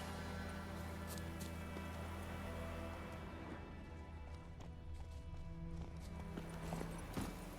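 Horse hooves clip-clopping at a gallop in The Witcher 3, a steady rhythmic thudding carried under a continuous music bed, with no voices.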